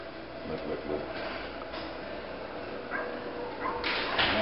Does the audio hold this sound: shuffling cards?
no